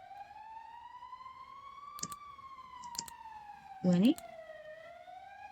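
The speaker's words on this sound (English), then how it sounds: "Is that the siren?" Siren wailing steadily with a slowly rising and falling tone, heard from inside a car after a crash, with a few sharp clicks and a brief spoken word over it.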